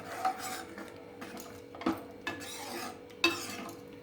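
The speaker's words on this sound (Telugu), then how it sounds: "సాంబార్ ఇలాగ రెడీ అయింది దీన్ని ఒకసారి కలిపేసుకుని" A spoon stirs sambar made with tangedu flowers in a cooker pot, giving soft, close scraping and swishing with a few light clinks of metal on metal.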